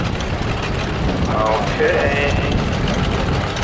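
Engine of a John Deere A tractor from Pekin, North Dakota, with a steady mechanical rumble and clatter running throughout under a brief spoken word, amid an outdoor show or parade.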